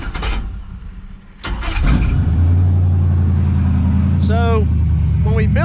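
A burnout truck's engine, refitted with new exhaust pipes and mufflers, cranks and fires up, then settles into a loud, deep, steady rumble with a few throttle blips, while people talk early on.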